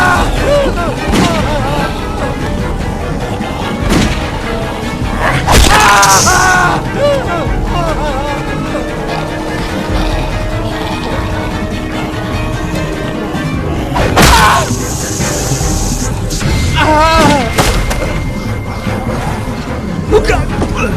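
Repeated gunfire and booming impacts from The Walking Dead PC game, a busy, loud mix of shots and crashes layered under tense game dialogue and effects.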